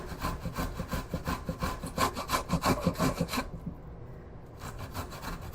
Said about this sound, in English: And then just go ahead and grate it.